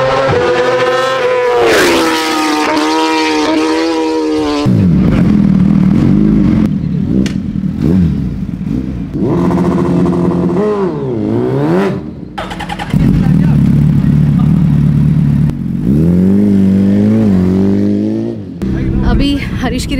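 Racing motorcycles at a drag race at MMRT Chennai, their engines revving loudly, rising and falling in repeated pitch sweeps, close and continuous for the whole stretch.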